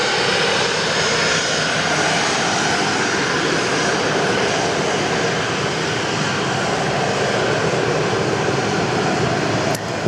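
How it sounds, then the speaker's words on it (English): A Gulfstream 650 corporate jet at Sydney Airport roars with a loud, continuous broadband engine rush that holds steady for the whole stretch, with no break or talk. "One of the SydSquad corporate jets, Gulfstream 650."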